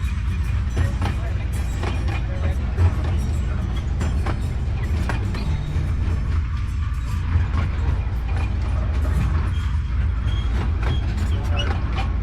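A tourist train at the Dole Plantation in Hawaii rumbles steadily along with a low, continuous engine drone and faint clatter, riding close throughout with no pauses.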